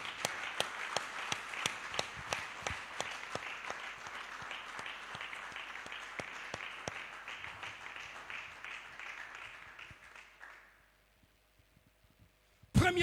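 A church congregation claps together in a fairly faint, steady round of applause for about ten seconds, then it dies away into near silence before a brief loud noise at the end.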